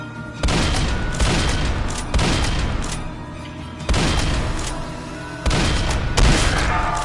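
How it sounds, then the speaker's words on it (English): Rifle shots in a video game fire in a run of loud, sharp blasts, each followed by a short decaying echo, spaced about a second apart. "This is how to properly use the rifle."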